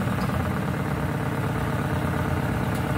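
Crown Victoria V8 idling with its exhaust cutouts closed, a steady, close low rumble that stays even throughout with no revving and no talk.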